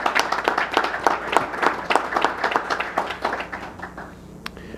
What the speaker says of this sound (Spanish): quizás con un breve aplauso